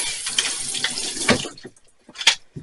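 Running water rinses rusty water off a relic military helmet inside a special washing cabinet, splashing and spraying in uneven bursts that briefly cut out before another loud gush.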